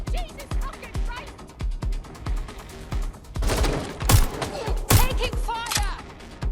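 Video game gunfire in Watch Dogs: Legion, a loud fusillade of repeated shots and booming impacts close by, rhythmic early then heavier and chaotic, with voices talking throughout.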